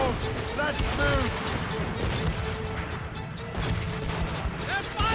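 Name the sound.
ship cannons firing, Assassin's Creed Rogue video game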